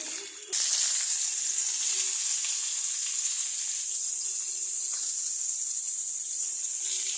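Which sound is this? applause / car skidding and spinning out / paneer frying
paneer frying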